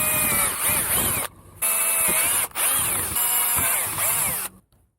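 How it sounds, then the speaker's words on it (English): A power drill whines in several bursts while drilling out holes in a Thetford C260 toilet's blade mechanism, its pitch rising and falling as it bites in, with short pauses between runs before stopping. "Now I'm going to drill out these holes."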